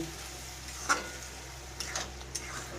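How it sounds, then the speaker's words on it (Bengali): Lentils cooking with spices in a pan, a soft, low sizzle with a few quiet clinks and scrapes of stirring. "এই সময় আমি অল্প অল্প করে জল দিয়ে দিয়ে এই মশলাটাকে মশলার সঙ্গে ডালটাকে আমি ভালো করে রান্না করব"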